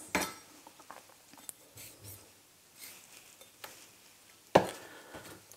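A knife shreds cabbage into thin strips on a cutting board, giving soft, scattered close chopping taps and scrapes with two sharper cuts, without talk.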